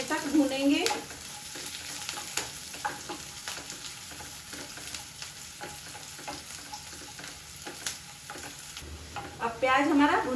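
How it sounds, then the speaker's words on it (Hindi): Onions frying and being stirred in a pan, a constant close sizzle broken by scraping stirs and clinks, louder at the start and end. "इसको हम कलर चेंज होने तक भूनेंगे।"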